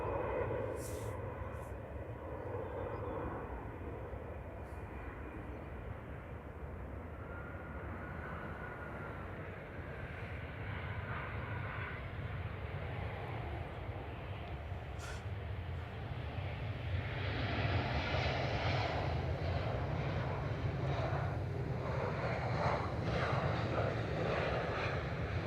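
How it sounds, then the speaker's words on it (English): An EasyJet airliner arriving from Paris Charles de Gaulle at Manchester Airport gives a sustained jet rumble that swells louder in the second half as it nears, with faint talk and a few brief clicks underneath. "here's EasyJet from Paris Charles de Gaulle with flight 2106"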